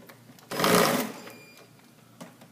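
An electric screwdriver drives screws back into an elevator basket, a close, brief whirring buzz lasting about half a second, followed by faint clicks.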